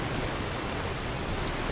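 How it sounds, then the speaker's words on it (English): Steady rain falling in the Skyrim video game world, a dense, even hiss that stays constant and fairly loud throughout with no voices over it. "I cannot wait to get inside and get away from all this rain."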